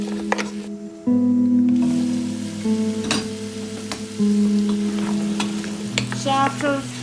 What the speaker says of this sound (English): Then keep frying till the all masala's rawness gone.